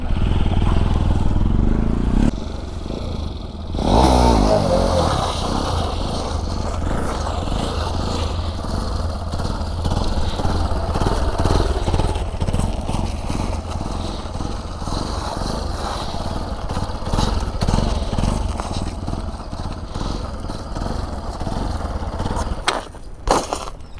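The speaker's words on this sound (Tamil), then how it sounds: "பிரேக்கை நல்லா அழுத்தி பிடிச்சி காலை தூக்கி த்ராட்டில் கொடுத்துட்டே இருப்பார்" A motorcycle held in a wheelie, its engine throttled steadily with a sustained, slightly wavering drone and a brief rise and drop early on, heard fairly close throughout.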